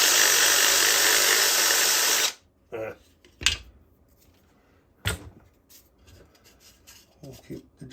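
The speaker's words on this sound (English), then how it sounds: "let me try reaming it out." A power drill grinds loudly and continuously as it reams out a hole in a Halloween animatronic pumpkin, then stops abruptly, followed by scattered scraping and handling noises.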